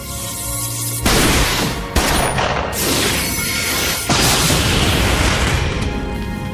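Two pistols fire in rapid, overlapping bursts during an animated fight scene, loud and dense shots that go on almost without a break.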